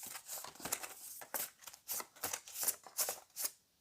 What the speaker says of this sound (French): difficile de brasser ces cartes, ouais, parce qu'elles sont vraiment très grandes